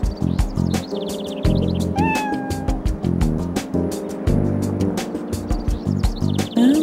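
A cat meows in the Wii game Trauma Team, a sick kitty handed to a doctor, with short mewing calls sounding repeatedly over a busy, steady game music and effects bed.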